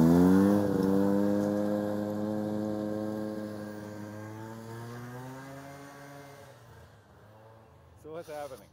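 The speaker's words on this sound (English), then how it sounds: "the clutch springs are so tired on that sled that it just wants to upshift and it doesn't have the power to get it going" A 1970 Arctic Cat Panther snowmobile with worn-out clutch springs runs at a strong, steady buzzing drone that slowly sags in pitch and fades out, followed by a couple of short sputtering revs.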